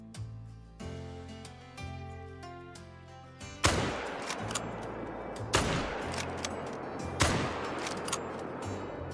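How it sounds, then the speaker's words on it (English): Three sharp hunting rifle shots in the Call of the Wild hunting game, each a loud crack with a trailing echo, fired after a stretch of soft music with no talk. "Second shot, I think we got him."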